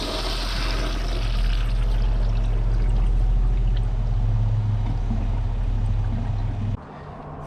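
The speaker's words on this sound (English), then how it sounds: "That's flush 1. Let's see how many flushes it takes to overflow." A Kohler Highline Pressure Lite toilet flushes with a loud, forceful rushing whoosh that holds steady for nearly seven seconds, then cuts off abruptly into a quieter refill hiss.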